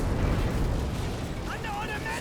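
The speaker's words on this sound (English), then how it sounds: "a bombing strike falls right on top of the T-34 and collapses the church" A bombing strike in Company of Heroes 2 lands on a T-34 tank and collapses a church, a rumbling, sustained explosive roar under a voice speaking.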